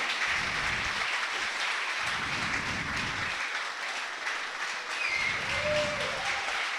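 Crowd at a Warcraft III esports match applauding the players after a series win, a sustained wash of clapping and cheering filling the hall, steady and fairly loud throughout with a low rumbling pulse beneath.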